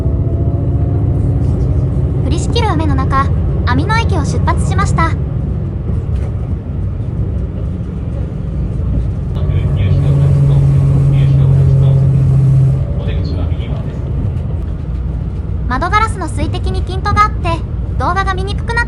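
Rumbling diesel drone of the Hanaakari tourist train pulling out of Amino station in heavy rain, a steady low engine sound with a narrator speaking over parts of it.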